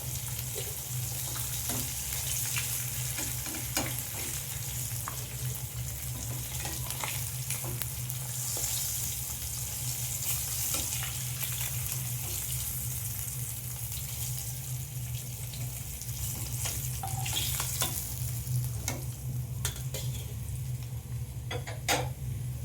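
Pieces of rohu fish fry in hot oil, giving a continuous close crackling sizzle with scattered pops and the odd utensil scrape, lasting the whole stretch without talk.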